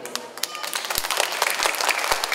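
Schoolchildren applauding to vote at a school meet-and-greet, a short burst of dense, lively clapping from a group close by, with faint chatter underneath.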